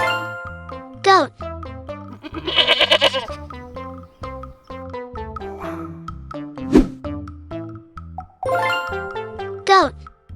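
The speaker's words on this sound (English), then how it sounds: "Goat." Goat bleats in a children's farm-animal naming sequence, several loud wavering calls spread across the clip with jingling and a voice mixed in.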